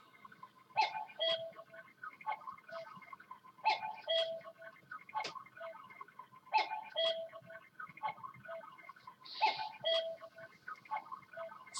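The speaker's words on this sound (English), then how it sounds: "My cuckoo clock." A cuckoo clock ticks quietly and steadily indoors, with a regular repeating pattern of soft clicks and no talking.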